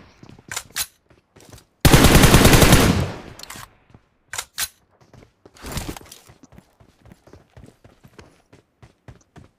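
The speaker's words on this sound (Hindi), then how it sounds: "अब यहाँ स्क्वाड हाउस में फायर साउंड आ रहा था" Gunfire in the PUBG Mobile video game: a sustained automatic burst that is loud and close, followed by scattered single shots, short bursts and a second shorter volley, with sharp cracks spaced irregularly across the clip.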